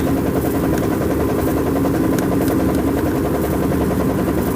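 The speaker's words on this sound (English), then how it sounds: "your car sounds like it's going to fall apart" A car engine runs loud and close with a rough, rattling vibration that stays constant throughout.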